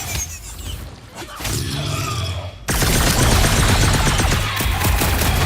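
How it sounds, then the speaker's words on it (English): Heavy gunfire in the Guardians of the Galaxy action game, a loud continuous volley of blasts and crashes that swells sharply partway through, with little talk over it. "Keep shooting!"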